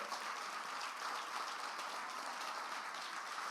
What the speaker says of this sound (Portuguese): Você pode dar um aplauso a Cristo hoje?